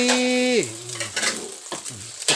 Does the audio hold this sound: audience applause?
no